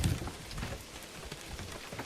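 Rain in the Manor Lords village-building game: a steady, soft, dense patter with scattered drops, fairly quiet and continuous, with no voices.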